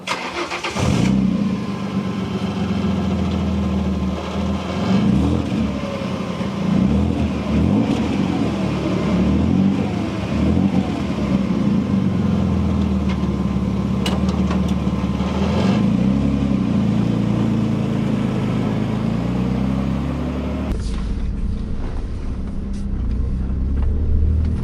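A Renault Avantime drives down a road, its mid-pitched engine droning steadily with gentle rises in revs and road noise throughout, heard from inside the cabin before the sound shifts near the end.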